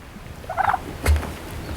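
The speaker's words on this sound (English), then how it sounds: "These are domestic turkeys, not wild, so hopefully they'll stay in our pasture over here." Domestic turkeys in a pasture give a short rattling gobble, fairly close, followed by a dull thump, with no talk over them.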